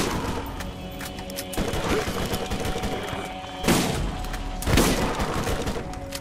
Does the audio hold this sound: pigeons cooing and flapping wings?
no